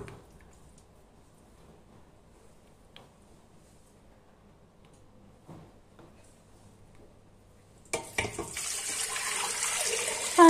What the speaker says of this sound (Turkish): Ardından üzerine sıcak suyumuzu ekleyelim.